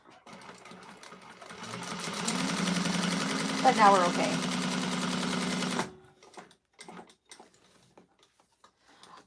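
Sewing machine, a Juki-type industrial model, stitching the card slots of a leather clutch wallet: a steady close mechanical whir for a few seconds that stops abruptly, with a person talking briefly afterwards.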